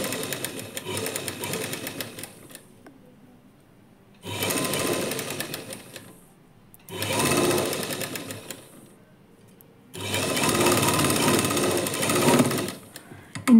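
A sewing machine stitches a lining blouse in four separate runs with quiet gaps between them. It is close and loud, and no one speaks over it.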